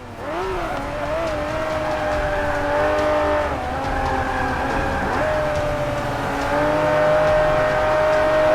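A Ferrari 512TR's 12-cylinder engine races in Forza 5, a loud continuous howl that rises and dips through gear changes and revs without pause.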